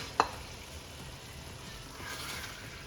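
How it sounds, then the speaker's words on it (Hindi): Chicken mince fries in masala in a pan with a low, steady sizzle, opened by a sharp clack as it drops in, then a gentle swell of hissing. "इसके अंदर मैं मुर्गी का कीमा शामिल कर रही हूँ।"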